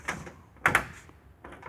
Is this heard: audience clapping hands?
no